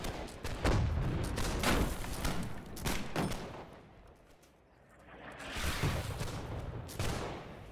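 Massed musket volleys and cannon booms in the Holdfast battle game crackle and thud in repeated bursts, dense at first, easing in the middle, then building again with distant-sounding reports.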